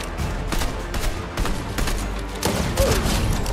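Rapid gunfire from a pistol in the Fortnite video game, a dense volley of sharp game shots fired in close succession over steady in-game background noise.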